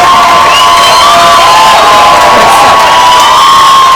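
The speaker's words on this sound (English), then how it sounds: "If you enjoyed what Mike did, make some noise now" A comedy club audience cheers, whoops and shouts in a loud, continuous roar of many voices that fills the room for several seconds.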